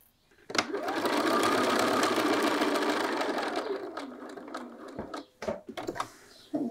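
A sewing machine stitches across the bottom of a field bag pocket in one continuous, steady run of rapid needle clatter, close and clear, then stops, followed by a few sharp clicks and handling knocks.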